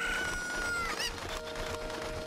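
Chicken clucking and squawking from the video game The Legend of Zelda: Ocarina of Time, a short, bright burst of fowl calls over busy game background sound, with no talk.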